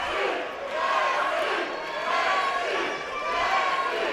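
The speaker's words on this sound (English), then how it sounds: "Crowd showing a little bit of love" Arena crowd at an AKA ROP10 MMA bout between Jesse Butler and Colin Wright cheering and shouting in steady waves, a broad continuous roar with swells of louder yelling rising and falling throughout.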